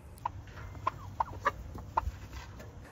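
Wild turkeys give a few short clucking calls, five sharp, fairly close notes spaced irregularly over a quiet outdoor background.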